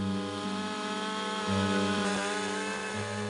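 An electric chainsaw runs in a dense forest, a loud, steady motor whine with shifting pitch as it bites and eases, close and continuous without any talk.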